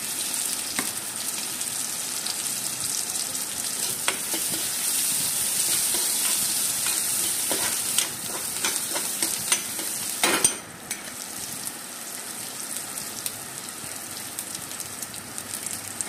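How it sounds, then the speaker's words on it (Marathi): Onions and curry leaves sauté in oil toward golden for a potato curry, a steady hissing sizzle close by, with a cluster of stirring scrapes near the end before it settles to a slightly softer fry. "मस्त परतून घ्यायचं गोल्डन कलर होतं."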